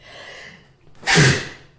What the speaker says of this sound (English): I've been wanting to sneeze throughout the entire question.